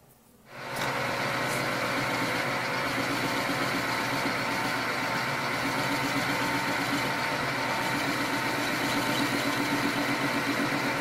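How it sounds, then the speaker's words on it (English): A metal lathe facing the end of a gun barrel starts up abruptly and then holds a loud, steady machining hum and whine with no talking. "Okay, I'm going to now take 50 thousandths off the end of the barrel."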